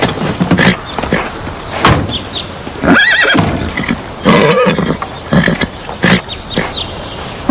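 A horse near a stable whinnies loudly in several bursts, with hoof clops and shuffling between calls and no talk.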